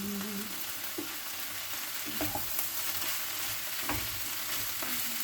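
Pancit canton noodles being stirred in a pan with vegetables, giving a steady sizzling fry broken by a few scraping stirs of the utensil, close and moderately loud with no talking.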